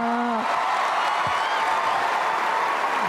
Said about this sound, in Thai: ขอเสียงปรบมือครั้งสำหรับคุณเก่งทีวี10 ครับ